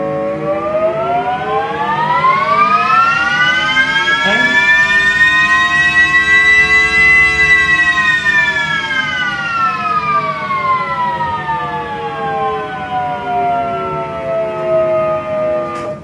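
A loud procedurally synthesized jet engine whine with rich harmonics, rising in pitch and then slowly falling, steady and continuous throughout, with low-pass filtering.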